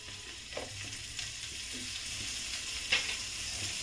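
Cumin seeds and green chili frying in oil in a pan at medium flame, with asafoetida, make a soft continuous sizzle with faint scattered pops and stirring scrapes, quiet and close, without speech.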